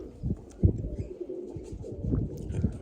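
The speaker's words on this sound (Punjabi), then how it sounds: "ਇਹ ਕਬੂਤਰੀ ਬੈਠੀ" Pigeons cooing in a loft, soft repeated low coos in uneven rhythm over steady background noise, close and moderately loud.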